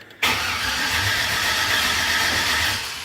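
A 1978 Malibu with a swapped-in 5.3 LS V8 cranks after a short silence, a loud, close, sustained churning roar that holds steady and then eases slightly at the end, with no voices.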